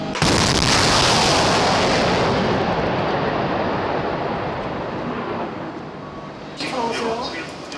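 A guided missile launches with a loud sustained roaring blast at a test range, rumbling strongly and then slowly fading, with voices near the end.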